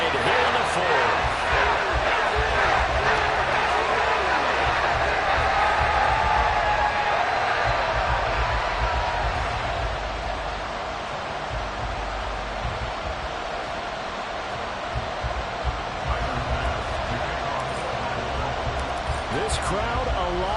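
A football stadium crowd roars continuously after a fourth-quarter two-point conversion ties the game, a broad sustained wash of cheering that stays loud throughout, with scattered thuds and shouts within it.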